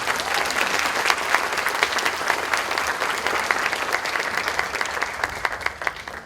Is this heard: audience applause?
yes